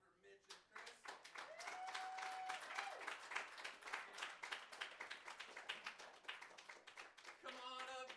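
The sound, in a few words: applause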